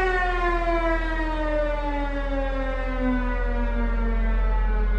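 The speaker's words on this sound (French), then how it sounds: "Le mugissement de la sirène donne l'alerte." A loud alert siren wails steadily, its tone slowly sliding downward over several seconds, with a low rumble underneath, signalling a sea rescue.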